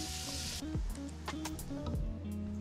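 Chopped bacon and onions cook in a pot for a beef short rib ragu: a brief burst of sizzling opens, then gives way to light utensil clinks and scraping against the pot.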